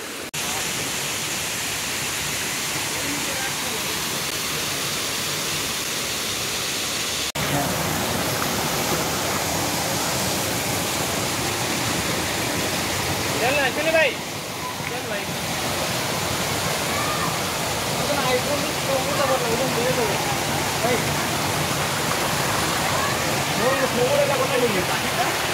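Water pouring down inside Kuntroo cave as a waterfall, a steady loud rushing roar that fills the space throughout with little variation.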